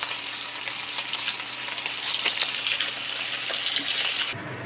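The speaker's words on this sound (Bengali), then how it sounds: "স্লাইটলি একটু ভাজবো, বেশি ভাজবো না" Steady, dense crackling sizzle of hilsa fish frying in hot oil, close and continuous, with no talking, cutting off abruptly near the end.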